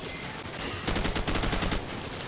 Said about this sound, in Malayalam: വെടി വെച്ചിടാം.